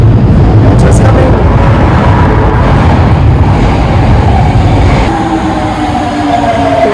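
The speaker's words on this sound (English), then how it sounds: "metro's coming!" An Osaka metro train rolls into the station, a loud continuous roar of wheels and motors that slowly eases as it arrives, with voices around it.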